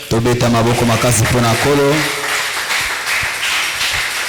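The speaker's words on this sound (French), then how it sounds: "Est-ce qu'on peut applaudir le Seigneur?" Worshippers at a Sunday church service break into applause for the Lord, a broad clapping texture rising beneath singing voices and then carrying on more loosely as the voices thin out.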